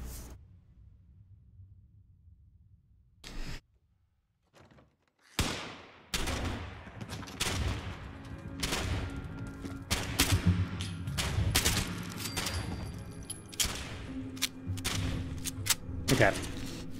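Shotgun blasts in the video game Fallout 76 ring out in a long rapid series after a few quiet seconds, loud booming reports mixed with in-game effects, while someone talks over the gunfire.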